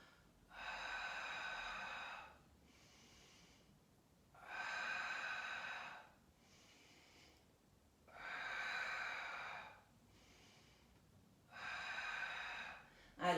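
Slow, steady breathing during a Pilates back exercise, four long airy exhalations each lasting about two seconds and spaced evenly, with faint quiet gaps between them.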